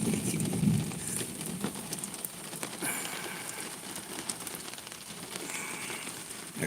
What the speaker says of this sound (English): Can you guys hear the rain?